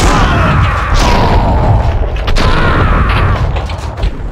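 In the video game Max Payne 2, gunfire lands as heavy, loud booms and sharp reports over a dense, noisy action background, with several distinct shots across a few seconds.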